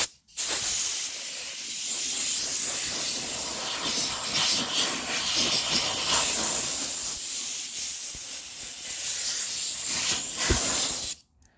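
Compressed air blows a BMW Z3 headlight clean after sanding, as one loud, continuous hiss lasting around eleven seconds, close up and starting and stopping abruptly.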